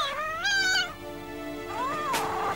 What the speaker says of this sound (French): On dirait un petit chat qui miaule.